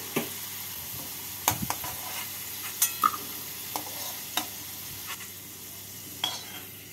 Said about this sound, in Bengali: আলুগুলোকে এইভাবে লাল লাল করে ভেজে নিলাম।